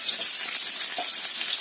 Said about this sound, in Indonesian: Ini kita tumis dulu bawang bombay